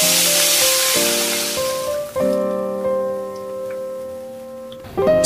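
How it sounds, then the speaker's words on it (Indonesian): Fish frying in hot oil, a broad steady sizzle that is loud at first and then settles, with tonal hums and a few clunks in the background, no voices. "Lanjut goreng sebagiannya lagi."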